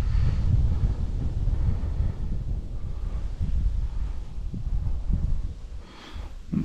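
Wind gusting across an outdoor microphone while spinning for fish, a low rumbling buffet that swells and eases steadily throughout with no talk.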